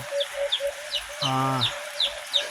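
Alimukon doves in a breeding pair give soft, repeated calls in an even rhythm, with one longer, fuller coo in the middle, heard up close with no talking.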